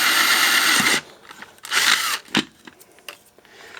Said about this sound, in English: These are just made of delrin, so it should drill very nicely